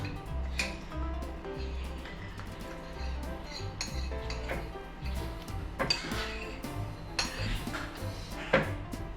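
Slime being moved into a bigger bowl, heard as faint clinks, taps and scraping of a utensil against a dish in a quiet room, with irregular soft knocks throughout.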